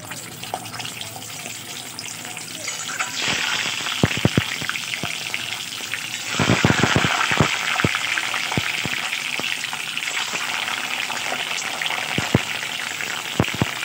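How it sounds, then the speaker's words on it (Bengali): Duck eggs, each scored around the edges, frying in hot oil for a coconut-milk curry. A steady, close sizzle and crackle with sharp spits and pops that intensify partway through. No speech. "তেল গরম হয়ে গেছে, এবার ডিমগুলো আমি ছেড়ে দেবো।"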